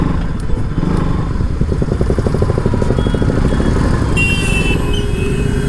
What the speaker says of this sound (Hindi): देखो आज तो फील आने वाला है भाई बाइक चलाने में।